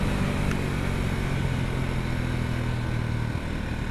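A Sothassi Classic 400 retro motorcycle pulls away on the road, giving a steady, fairly quiet engine drone with wind rush, heard from the rider's position without a clear rise in pitch.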